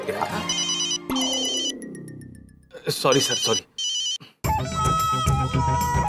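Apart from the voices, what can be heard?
phone ringing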